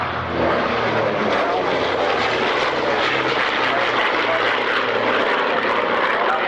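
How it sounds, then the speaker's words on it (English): Grumman F8F Bearcat piston fighter flying at an airshow, a loud continuous propeller-engine roar with steady droning power and a broad rushing wash, sustained and close throughout without pause. "Doing his best to keep up in the F8 Bearcat. Extremely powerful and maneuverable."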